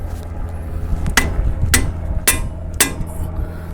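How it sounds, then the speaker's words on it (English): Four sharp metallic strikes of a hammer's edge against a 3/8 breaker bar, loosening a bolt during front brake pad and rotor work on a 2007–2017 Toyota Camry, evenly spaced about half a second apart over a low garage hum. "I'm just going to take the edge of the hammer right here and hit it on the breaker bar."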